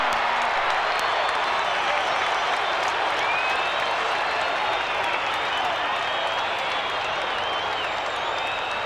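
Football crowd at the MCG during a 1987 VFL Melbourne v Collingwood match cheers and applauds a Collingwood goal, a dense, sustained roar with clapping that stays loud and steady throughout, with commentary speech faintly underneath.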